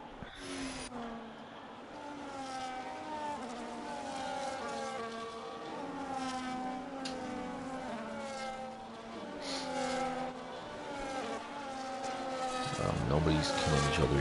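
Many race cars on a formation lap at the Austria track in a sim racing game, overlapping engine whines sweeping up and down in pitch, fairly faint and steady, growing louder at the end.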